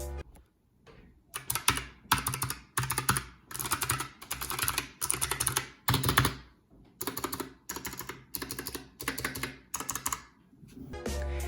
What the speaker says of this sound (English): the sound of the keyboard switches is pretty loud, really loud